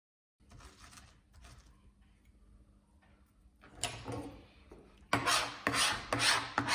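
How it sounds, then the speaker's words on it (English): Peeled ginger is finely grated on a microplane, a soft rasping scrape that builds into louder rhythmic strokes toward the end, heard close in a kitchen. "we're going to peel it and then finely grate it using a microplane"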